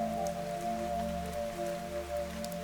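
Steady rain falling in the fantasy role-playing game Fantasian: Neo Dimension, a continuous soft patter over a low sustained tonal hum, even and unbroken throughout.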